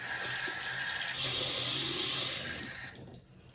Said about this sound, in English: I'm just gonna wet my hands